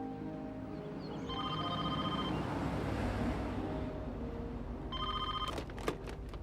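A car-mounted home telephone rings with repeated electronic bell bursts in a film scene, the trills standing out clearly over a steady background rumble.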